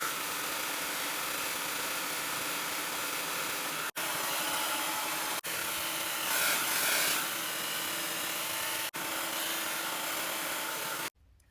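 Hair dryer blowing hair dry, a loud, steady, close whoosh that runs on for several seconds, broken by a few brief cutoffs, with no talking.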